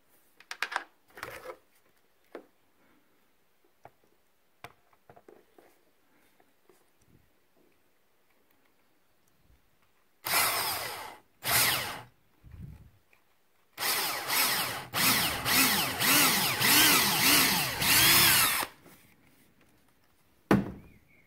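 A power drill bores holes for frames aboard a MacGregor 26M sailboat: several loud bursts of whirring drilling, the longest running about five seconds, separated by quiet stretches with small handling clicks and thunks.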